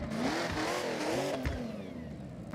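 A 7.7 litre V8 diesel in Forza Horizon revs up in a rising, wavering engine tone that climbs and dips, then settles back to a steady drone, loud and close with no voices.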